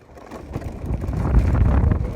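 Wind buffets the microphone while riding a scooter on a road out of Pokhara, a low rumbling roar that swells steadily and stays loud throughout.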